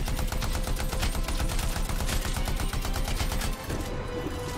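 Steady, rapid automatic weapon fire in the sci-fi shooter Anthem, dense rattling shots packed closely together for several seconds over a busy combat background before easing off.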